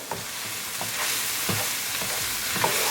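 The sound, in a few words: stirring spices in a frying pan for fuzzy melon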